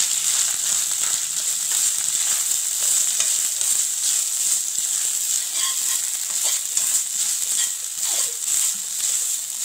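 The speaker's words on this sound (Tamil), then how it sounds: "தேங்காய் வந்து நல்லா இந்த அளவுக்கு வறுத்த போதும்." Grated coconut roasts in a pan, giving a constant bright close-up sizzle with soft scraping stirs running throughout, no voices.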